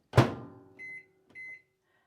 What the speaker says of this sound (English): I'm going to just put this in the microwave